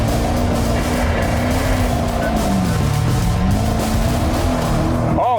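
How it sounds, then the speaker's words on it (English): A supercar with traction control switched off spins its wheels, a steady loud engine drone with a wavering pitch and tire squeal running through the whole stretch, close up and without talk. "I'm going to put traction control off, and then I'm just going to do a little spinny spin."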